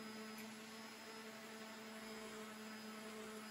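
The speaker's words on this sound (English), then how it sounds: "hitting it on the buffing wheel" A buffing wheel polishes a cast resin chef knife handle, producing a steady motor whine with a strong low hum and constant high tones, even and unbroken throughout, fairly quiet, with no voices.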